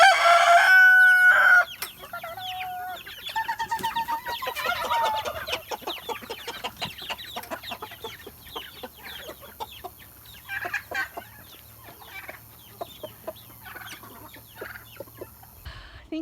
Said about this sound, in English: I'm gonna go ahead and feed the chickens.